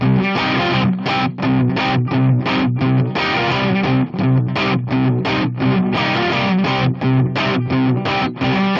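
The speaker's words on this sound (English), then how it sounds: "it's pretty standard rock guitar distortion." Heavily distorted rock electric guitar, using only stock REAPER plugins, plays loud chugging chords in a steady rhythm, with brief gaps between strums and no voices.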